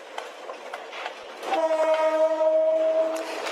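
A train rolls along railroad tracks running through a poor slum, its horn sounding a long steady blast over the rumble and clatter of the cars, loud and close.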